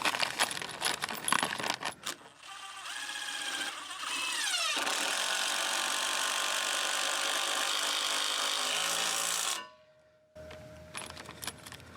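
An impact driver runs a socket-driven bolt into wood while a backyard swing set is being assembled: a few seconds of handling clatter, then a loud, steady mechanical whine of several seconds, which cuts off abruptly and is followed by a faint tone and light knocks.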